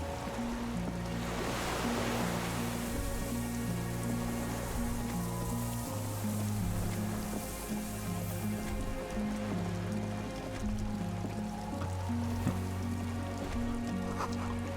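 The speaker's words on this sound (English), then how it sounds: "The distant sound of cargo ships." Distant cargo ships on open water in the Disco Elysium video game, heard as a continuous wash of waves and rain-like surf, with low steady horn tones layered beneath throughout.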